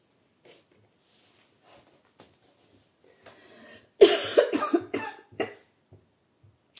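A burst of several harsh coughs in quick succession, close and loud, preceded by faint rustling and a throat-clearing sound in an otherwise quiet room.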